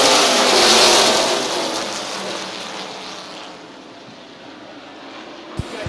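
Stock cars of the Super Cup Stock Car Series roaring away at the green flag at Midvale, a loud broad engine rush that fades as the field pulls away, ending in a brief sharp knock.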